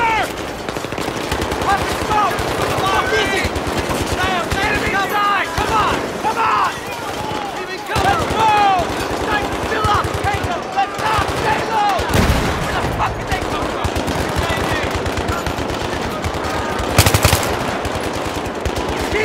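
Heavy machine-gun fire and rifle shots crackle almost nonstop in a Battlefield 3 campaign firefight, loud and dense with sharper single bursts, while voices shout beneath the shooting.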